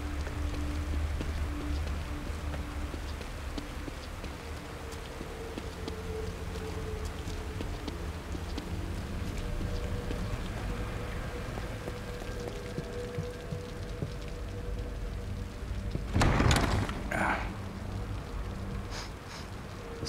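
Steady rain falls in the horror game The Evil Within, a continuous dense patter with a brief louder burst near the end, no voices over it.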